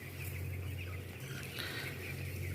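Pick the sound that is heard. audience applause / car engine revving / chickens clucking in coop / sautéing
chickens clucking in coop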